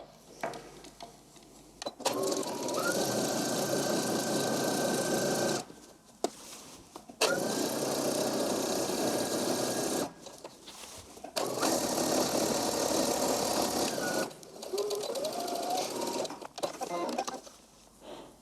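A sewing machine runs the side seams of a dress in several long, loud, steady runs broken by brief stops, with a rising whine as it speeds up and faint clicks between stitching passes.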